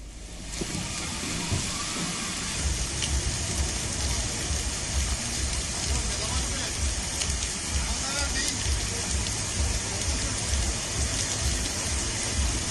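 Dense, steady heavy rain pours down in Hyderabad with a continuous loud hiss and spatter, unbroken from start to finish.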